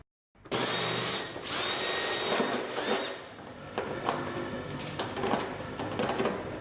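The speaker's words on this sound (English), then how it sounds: "Make sure that you can get a battery-powered drill." A battery-powered cordless drill runs steadily close by, its whine rising and dipping as it bores holes while building a solar bottle bulb, with brief load changes and small clatters along the way.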